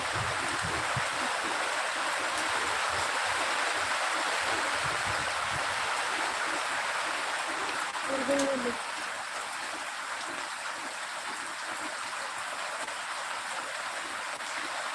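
A heavy monsoon downpour in Pune, a dense, unbroken roar of rain hissing steadily throughout, with a brief low thud partway through.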